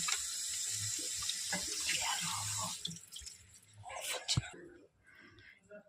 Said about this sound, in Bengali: এবার আমরা ভালো করে মাংসটাকে বেসিনে গিয়ে ধুয়ে নেব।